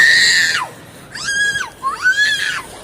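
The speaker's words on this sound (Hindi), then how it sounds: "देखो भाई, चिल्ला जा रही है।" A young girl screams in long, shrill, rising and falling wails, three loud cries separated by brief pauses, close by with nothing else heard.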